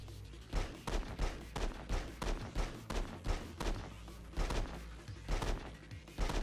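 Weapons fire in a car arena video game: rapid, repeated punchy bursts of shots at a steady pace, with low booming thuds underneath, fairly loud and continuous throughout.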